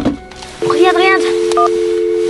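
A phone is dialed to call the police, with short keypad tones and a steady dial tone running under a person's speech at close range.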